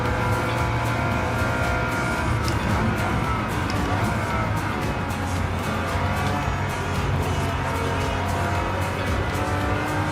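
A 308 race car engine in the Gran Turismo 7 racing game, a roughly 350-horsepower machine, drones loudly and steadily throughout, with layered engine tones from nearby cars and a voice talking over the racing.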